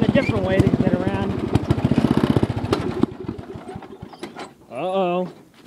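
A Suzuki RM830 dirt bike engine revs in a fast, buzzing pulse and then cuts out, leaving quiet. It sounds close by in a back yard, and someone talks briefly afterward.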